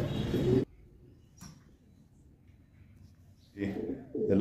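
Caged meat and homing pigeons give soft, low coos in a quiet stretch between bursts of someone talking nearby.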